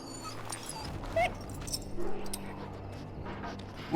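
An ailing dog in the Ostagar camp of the video game Dragon Age: Origins whimpers with a couple of brief, soft yelps over a steady ambient game background, with no talking.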